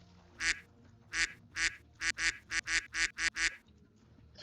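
Duck quacks spammed from a soundboard ring out in a rapid string of about ten loud, nasal quacks, spaced unevenly at first and then tightly bunched, over a quiet background.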